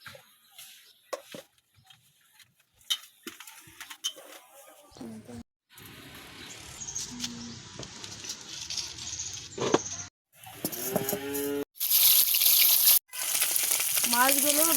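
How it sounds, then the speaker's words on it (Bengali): Small jatka fish fry in oil, a sizzle that cuts in and out between quiet gaps and swells into loud, bright crackling in the final seconds. "মাছগুলো ভাজা হয়ে গেছে।"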